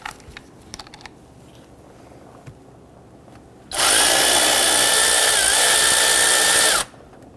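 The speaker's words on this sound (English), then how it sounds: "we're going to switch over to our power tool to zip that stud out" A power tool zips a stud out on a 2007-2021 Toyota Tundra 4.7L V8, running loud and steady for about three seconds after a few quiet clicks and taps of handling.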